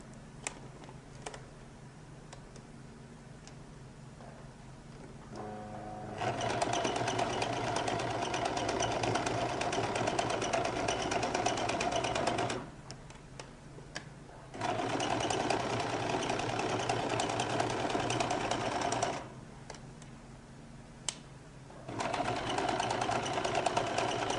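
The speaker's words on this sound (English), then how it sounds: "So I'm going to start by running a few gather stitches." Sewing machine runs gather stitches along a jacket lining in three long loud bursts of rapid steady whirring and needle chatter, separated by quieter pauses with faint handling clicks, no talking.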